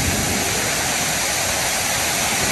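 Swollen mountain river in flood, high enough to drag logs along its banks, roaring as a dense, steady rush of water that fills the whole clip, close and unbroken, with no voices.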